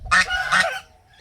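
A farm duck gives two loud, close, nasal honks in quick succession, followed by quiet.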